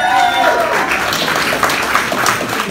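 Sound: audience applause at cosplay contest

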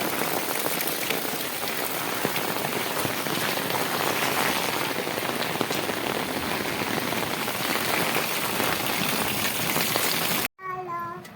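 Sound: heavy rain

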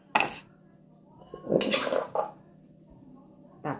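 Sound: scooping papaya salad with field crab onto a plate

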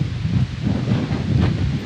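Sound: strong wind

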